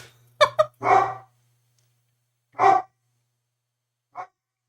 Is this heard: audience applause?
no